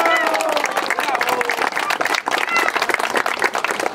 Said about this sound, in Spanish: Fuertes aplausos a nuestra alcaldesa.